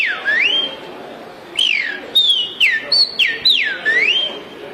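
A man whistles an imitation of the tico-tico boi bird song, a series of clear swooping phrases with short gaps between them, close and solo.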